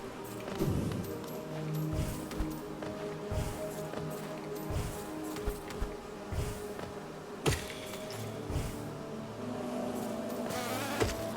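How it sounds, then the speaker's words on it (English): Big bumbling bees buzz in Hollow Knight, a video game, with a steady drone running under game music, dotted with sharp clicks and brief hits. "I don't feel good about killing those great big bumbly bees"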